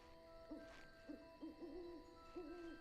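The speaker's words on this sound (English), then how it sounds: "I love the sound of owls." In the game Final Fantasy XIV, an owl gives a series of soft, low hoots, about five calls spaced unevenly over a few seconds. The hoots are faint and distant against quiet ambience.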